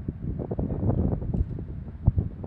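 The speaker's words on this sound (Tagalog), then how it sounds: "medyo bumibuelo pa ang hangin" Strong sandstorm wind gusts outside an oil rig clinic in Khurais, Saudi Arabia, making a rough, buffeting roar with irregular bursts of microphone wind noise and a sharper thump near the end.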